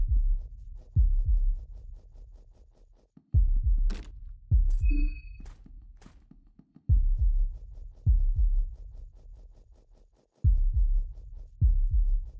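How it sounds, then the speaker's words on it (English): A video game heartbeat effect, with deep, booming low thumps arriving in heavy pairs at a slow, regular pulse, each one fading into a throbbing decay, along with a few brief higher clicks and tones between beats. "The heartbeats."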